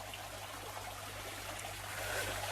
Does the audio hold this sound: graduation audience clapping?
no